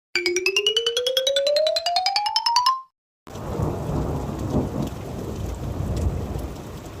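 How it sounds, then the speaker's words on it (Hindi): Heavy rain pours down steadily in a windy storm with deep rumbling thunder, following a rising melodic chime that cuts off abruptly. "ये तो बहुत तेज बारिश से स्टार्ट हो गया। तूफानी हवा भी चल रहा है।"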